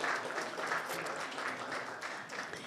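Steady applause from a crowd at a proclamations and commendations meeting honoring a state championship team, dense clapping filling the whole moment at an even level without a break.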